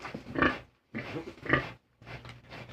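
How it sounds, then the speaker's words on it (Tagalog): A large sow grunts in three separate, close, fairly loud bursts with brief silences between them. "malaki-laki ito, mga busing, yung inahing baboy natin"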